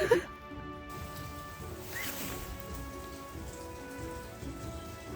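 Steady rain pattering on a surface during a motorcycle trip through Zakarpattia, Ukraine, a continuous even hiss that stays fairly close and unbroken for the whole stretch, with no talk over it.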